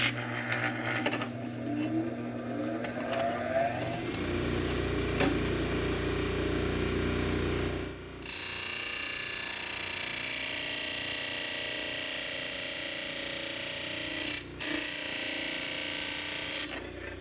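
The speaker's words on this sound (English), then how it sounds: "we do have a sanding disc in the back" Sanding disc grinding material off a part, a loud continuous whirring rasp that shifts in pitch as the workpiece is pressed on, with brief breaks where contact changes, heard alone without talk.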